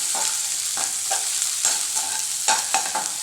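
Ground onion sautéing in a pan for a prawn curry, a loud, steady close-up sizzle with repeated scraping stir strokes cutting through every half second or so.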